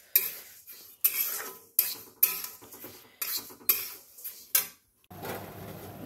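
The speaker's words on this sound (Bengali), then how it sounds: "মুগ ডাল ভেজে ধোবো।" Mung dal dry-roasting in a pan, a spatula scraping and tapping the metal in about eight separate sharp strokes, close and clear, followed by a short stretch of softer hiss.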